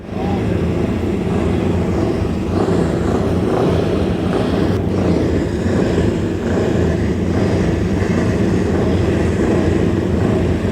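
Vintage BSA motorcycles race on a track in a 60-plus vintage open event, their engines droning loudly and continuously as bikes pass, with a faint announcer voice in the background.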